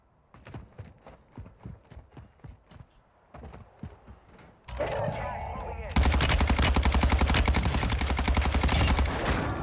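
Gunfire rings out in the shooter game Warzone: a run of separate, evenly spaced shots gives way to a loud, sustained burst of rapid automatic fire up close.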